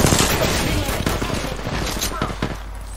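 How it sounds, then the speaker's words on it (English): Rapid gunfire from an Apex Legends arena duel crackles densely and loudly throughout, bursts overlapping with game effects and a voice talking over the fight. "Listen up, I'm getting shot at."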